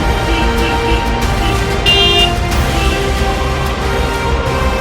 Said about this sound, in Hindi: इसे बोला ना हॉर्न मारते हुए जाना है बस